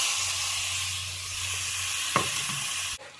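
Chopped tomatoes stirred into a sizzling Malappuram-style chicken curry masala in a pan, a steady close hiss of frying with a sharp scrape of the spoon near the end before the sound cuts off.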